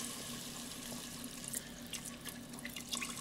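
Water pours steadily over rice in a multicooker bowl, a soft continuous splashing stream with a few brighter trickles, close and fairly quiet, with no talking.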